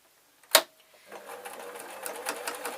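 A sewing machine stitches along the waistband of an adult Scottish kilt, starting after a sharp knock and then running in a steady, fast mechanical whir, close and alone.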